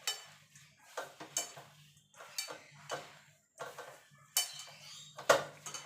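Dal ingredients with salt and turmeric are mixed together in a metal vessel for a jute-leaf dal, giving a series of irregular clinks, taps and scraping strokes of utensils against the pot, quiet and close.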